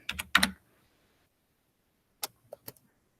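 Computer keyboard keys tapped while entering text into a chat box, a quick cluster of three or four crisp clicks, a pause of well over a second, then a few more sparse taps, close and fairly quiet, no talk.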